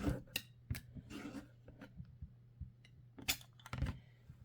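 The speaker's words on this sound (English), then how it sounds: "I'll just trim off the pinking real fast." Scissors trim the pinked edge off a small fabric scrap in a run of quick, crisp snips at an uneven pace, close and fairly quiet, with no talk.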